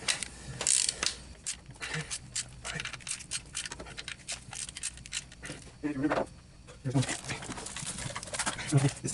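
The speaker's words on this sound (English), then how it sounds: "now we're just going to take them down tight with just a regular ratchet" A regular ratchet tightens bolts on a 2008 Lexus ES350 water pump, giving bursts of quick metallic clicks amid clattering tool noise, with talk over it.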